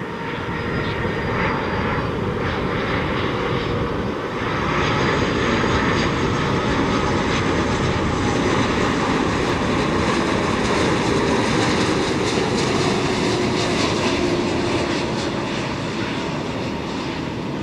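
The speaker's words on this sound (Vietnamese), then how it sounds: "mời mọi người chiêm ngưỡng pha hạ cánh của chiếc Airbus A330-300 của hãng không Aeroflot" An Aeroflot Airbus A330-300 landing, its jet engines roaring loudly and steadily throughout, with a broad rumbling whine that holds close and constant.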